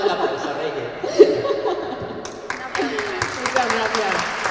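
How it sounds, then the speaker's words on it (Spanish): Audience applause for author Reyes Monforte at a literary café swells in the second half, a dense patter of clapping mixed with laughter and ongoing talk. "Vamos a dar un aplauso, Reyes."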